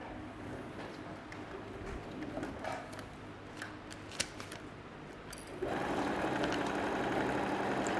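Sewing machine stitching fabric bag panels together, a low mechanical whir at first with a few small clicks, then a louder steady buzzing run of stitching in the last couple of seconds, close and without talk.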